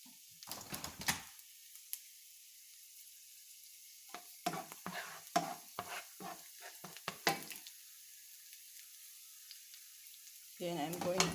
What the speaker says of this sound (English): I'm going to saute the garlic and the onions.